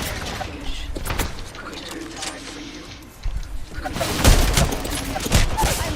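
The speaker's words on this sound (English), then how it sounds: "They're shooting at me" Gunfire in a Fortnite match: sharp scattered shots early, then a denser volley of loud cracks and impacts in the second half, with talking mixed in.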